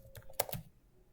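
Several quick key presses on a computer keyboard while entering a search term in the AWS console, a short burst of light clicks heard alone at low level with no talking.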